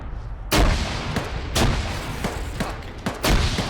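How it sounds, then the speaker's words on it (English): Grenade explosion in the video game ARMA 3, heard as a series of loud, booming blasts about once a second that sound like artillery or gunfire. The bangs are close and heavy, with no speech. "But they get me with a grenade."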